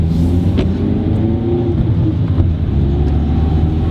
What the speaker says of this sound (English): It makes some noises, some loud noises, because that's all my motor's relying on right now, because my other mounts are blown.